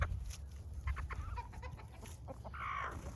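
Chickens cluck and murmur close by in short bursts, with one louder drawn-out squawk near the end over a low rumbling background.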